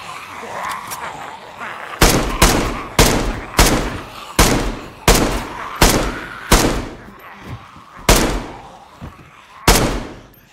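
Loud, close gunshots ring out in the video game DayZ, about a dozen sharp separate blasts at uneven intervals with brief gaps, over faint background noise.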